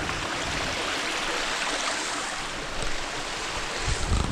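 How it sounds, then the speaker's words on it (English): A small river on a winter hike along the West Highland Way near Ben Lomond rushes steadily as a continuous broadband wash, close and even throughout, with light wind buffeting toward the end. "little river. One of many that we've seen on the West Highland Way."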